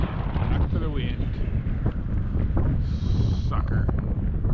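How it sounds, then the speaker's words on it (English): Strong winter-storm wind gusting across frozen Last Mountain Lake during ice fishing, a loud, continuous buffeting roar on the microphone lasting throughout, with a brief faint electronic tone partway through. "Here we are again, all windy."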